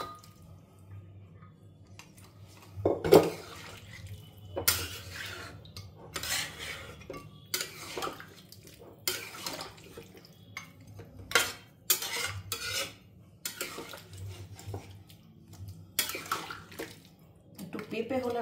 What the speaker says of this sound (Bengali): এবারে এই পুরো মাটনটা স্টক সমেত ঢেলে দেবো।